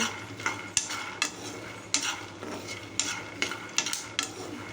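Moringa leaves fry in a pan over a gas flame, village style, with a soft continuous sizzle under repeated sharp scraping and clinking strokes of a metal spatula stirring them, close and fairly quiet.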